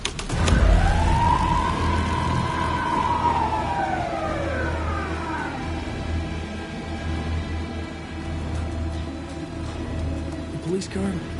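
A police car siren in the video game Alan Wake: one long wail that rises and falls over a low engine rumble, fairly close, with a voice talking quietly under it.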